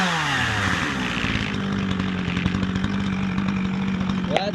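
A Dolmar chainsaw engine runs loudly and close after a carburetor cleaning, its motor buzzing steadily with a high rasp, then revving briefly near the end.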